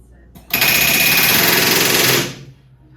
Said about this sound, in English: I have him working the rivet gun on the outside while I hold the bucking bar on the inside.